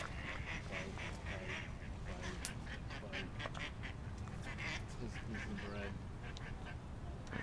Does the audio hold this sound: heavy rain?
no